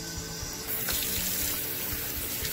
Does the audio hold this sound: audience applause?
no